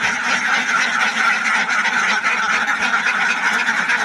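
A large flock of ducks at a duck farm quacks in a dense, continuous, loud chorus, with calls overlapping without pause and no voices.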